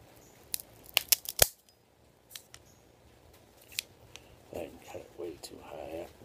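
A cutter snips the end off a Rocky Patel Edge Sumatra Toro cigar: a few sharp, close clicks early on, then soft handling rustles in a quiet room.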